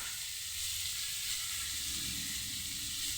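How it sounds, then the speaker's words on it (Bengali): Potatoes, tomatoes, capsicum, onions and bitter gourd fry in a pan, giving an even, soft, continuous sizzle and hiss at moderate distance with no voices. "এখন এটাকে ভালো করে আমি আলু, টমেটো, ক্যাপসিকাম, পেঁয়াজ এগুলোকে ভালো করে ভেজে নিব।"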